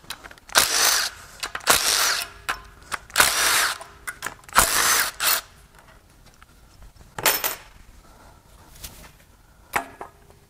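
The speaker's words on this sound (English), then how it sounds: "We're going to use a ratchet and then I'll come back and loosen them up with the impact." A ratchet and tools working on the camshaft bolts of a Mazda MZR 2.3L turbo engine during teardown, irregular bursts of clicking and mechanical rattles with pauses, close by.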